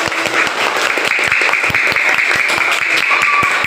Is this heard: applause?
yes